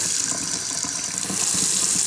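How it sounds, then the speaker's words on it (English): A kitchen faucet runs hot water at full blast, a steady, close, rushing splash into the sink that continues without pause and without speech. "the faucet. I'm just running it under there. I got it on full blast on heat."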